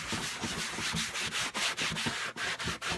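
Someone scrubs a leather car seat with cleaner and prep, a quick series of rough rubbing strokes in a brisk back-and-forth rhythm, close and fairly quiet, with nothing else heard.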